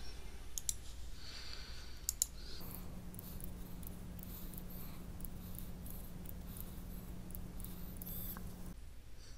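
Computer mouse clicks while fixing PDF table tags, a few sharp close clicks at the start and more scattered clicks near the end over a low steady hum, no talk.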